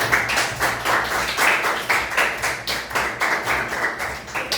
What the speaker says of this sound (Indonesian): Beri tepuk tangan dulu untuk kelompok A.